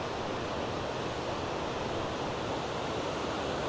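Bhedaghat waterfall on the Narmada river roars as a constant, dense wash of falling water, heard close up and steady with no talk.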